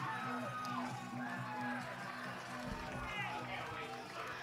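Crowd noise after a North Georgia men's soccer win over Clayton State, a steady wash of cheering and whoops continuing throughout, with a commentator's voice running over it.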